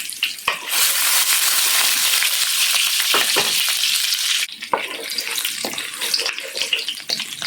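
Garlic fries in olive oil in a pan where eggplant was lightly fried, giving a loud, steady sizzle that drops slightly partway through and then crackles on in irregular bursts.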